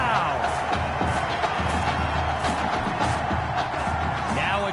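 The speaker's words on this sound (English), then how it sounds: "A big-time play that gets a roar from this crowd." Stadium crowd roar from the Madden 21 football video game after a big downfield catch, a steady dense wash of cheering that holds at an even level throughout.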